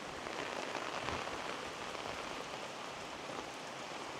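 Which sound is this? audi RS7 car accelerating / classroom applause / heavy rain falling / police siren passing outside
heavy rain falling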